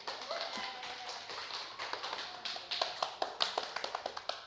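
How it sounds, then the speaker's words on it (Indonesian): A classroom of students claps for themselves during a microteaching maths lesson, a quick, fairly faint patter of hand claps that sharpens into distinct rapid claps toward the end. "Tepuk tangan buat diri sendiri."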